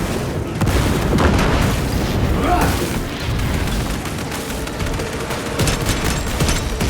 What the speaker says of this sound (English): Using crack grenade.